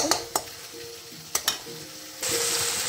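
Spices sizzle in a pan as they are sautéed after hot water is added, with a few sharp scrapes and clinks from stirring over a steady hiss that grows louder near the end.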